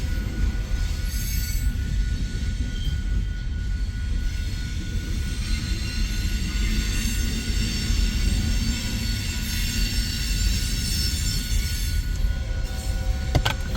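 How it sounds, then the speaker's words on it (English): A northbound BNSF freight train passes close by with a continuous heavy rumble of railcars and faint wheel squeal near the end, steady and unbroken, no talking. "I have a northbound BNSF train coming north up the Sioux City sub right behind me."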